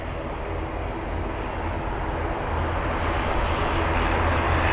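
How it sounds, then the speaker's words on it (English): An airliner lands at London Heathrow and brakes with a brief burst of reverse thrust, a loud, broad engine roar that swells slightly toward the end, heard from a distance with no talk. "Just a quick reverse thrust and wow, already vacated off the runway."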